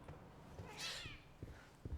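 A cat in the video game The Medium gives a single clear meow midway, fairly soft, over a quiet game ambience with a few faint thumps.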